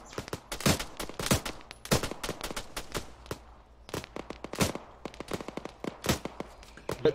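Gunfire in a military video game comes as many sharp, separate cracks, sometimes in quick clusters and sometimes spaced apart, loud and close with no talk over them.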